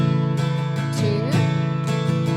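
Acoustic guitar strumming the bridge chords of a song steadily in rhythm, close and clear, with chord changes partway through and no voices.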